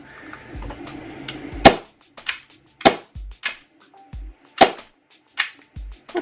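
WE Glock gas blowback airsoft pistol dry-fired with the magazine in, giving about six loud, close, sharp snapping clacks at roughly even intervals after some handling noise.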